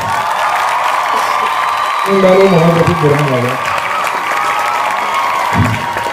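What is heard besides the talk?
applause for children at an award ceremony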